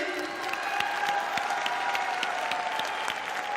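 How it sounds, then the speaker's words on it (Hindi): An audience at a company success party in Jaipur claps, a moderate burst of scattered individual hand claps over a background of voices and faint music. "तालियां भाई।"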